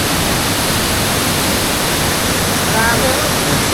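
Salvosa Falls, a waterfall in Pantukan, Davao de Oro, gives off a loud, steady broadband roar of rushing water that fills the whole stretch with no break.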